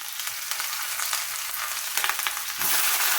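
Onions, garlic, curry leaves and spices sizzle and fry in hot oil in a pan for shark fish curry, a loud continuous crackle with brief stirring scrapes and no talk.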